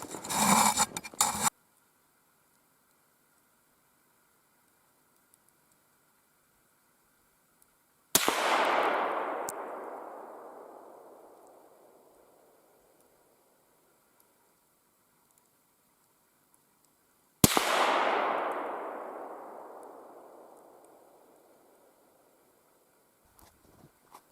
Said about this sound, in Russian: один выстрел сделаю